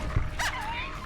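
A dog whimpers in the video game Fallout New Vegas, with a thin, rising then falling whine after a soft thump, close and brief.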